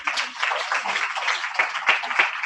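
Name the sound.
applause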